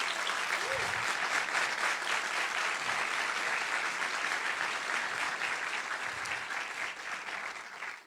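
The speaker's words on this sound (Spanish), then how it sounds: "quiero pedir un aplauso para ella especialmente." Sustained, dense applause from a theatre audience at a live talk event at the Teatro Nacional, steady and loud throughout before tapering slightly at the very end, with no voices over it.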